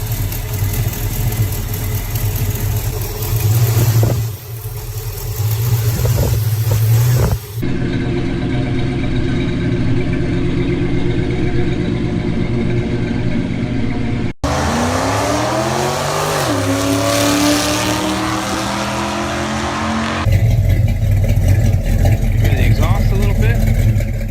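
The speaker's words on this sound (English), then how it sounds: "Smooth running engine." A 1967 Barracuda muscle car engine runs with a deep, throaty rumble, revving and surging at points, loud and close throughout.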